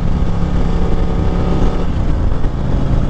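A 2021 Harley-Davidson CVO Street Glide's 117 cubic inch Milwaukee-Eight V-twin with a big sucker air cleaner, running on a test ride, gives a steady, loud, close engine rumble that holds without a break throughout.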